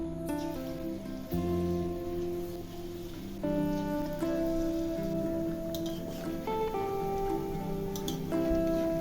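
Palm-fruit fritters drop into hot oil and sizzle with a steady, dense crackle that fills the whole stretch, with background music playing underneath.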